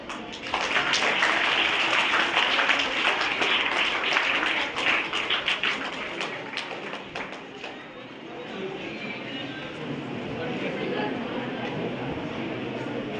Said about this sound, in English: Please give them clap.